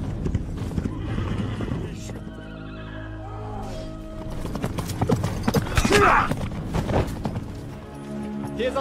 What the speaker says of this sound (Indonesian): saat mereka sedang menggiring kuda hasil rampasan itu